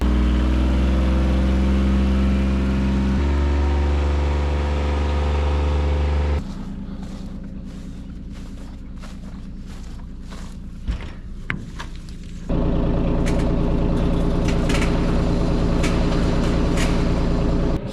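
A farm engine, likely the tractor pulling a haybine mower out of the shop, runs steadily and loudly up close, drops to a quieter idle with scattered clanks and knocks, then swells back to a strong running drone.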